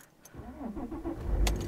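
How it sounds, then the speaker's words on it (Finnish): A Mercedes car engine cranks and fires up in cold weather, a short starter whir rising into a steady idle close by, with no talk over it. "katsotaan, lähtisikö auto käyntiin"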